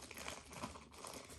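Plastic bag crinkled and scrunched up close, a continuous rustling crackle with sharp crisp bursts, heard alone in a quiet room.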